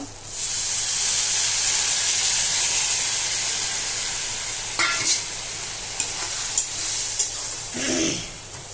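Fish masala fries in oil in a pan, a loud steady sizzle that eases off midway, then broken by several sharp scraping stirs and a burst of hissing spatter near the end.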